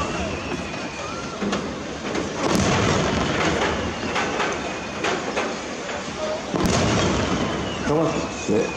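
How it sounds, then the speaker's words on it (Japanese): Palm-tree-style aerial fireworks at the 2018 Nagashima commemoration display: two heavy booms several seconds apart, each with a sharp crack, standing out over a steady crackling rumble of the show. "ヤシの木をイメージした花火、"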